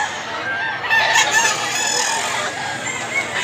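A bull stag rooster at a gamefowl market in Mantalungon, Cebu, crowing loud and close in one long sustained call over steady outdoor background noise.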